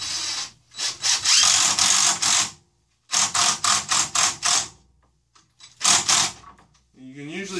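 A power drill drives screws into a pallet wood panel in short close bursts of whirring and grinding, separated by pauses, with a final ratcheting whine at the end.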